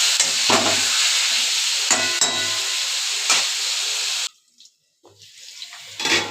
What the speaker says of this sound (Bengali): এবার আলুটা আমি ভালোভাবে নাড়াচাড়া করে দিয়ে ডেকে ডেকে ভেজে নেব।